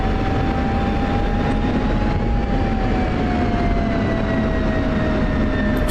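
Simulated F-16 jet engine spooling up inside a flight game, a loud, steady turbine roar with a high whine that rises and then eases slightly, heard alone without talk.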